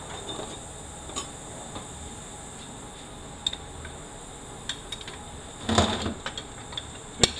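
A ratchet turns a 1 7/16 socket on a 4L80E transmission during disassembly, giving faint scattered clicks and a short burst of ratcheting near the end over a quiet background.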